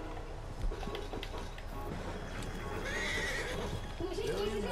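A horse in a video game stable neighs in a short rising whinny, with another snort-like call at the end, over a steady din of game ambience and a speaking voice.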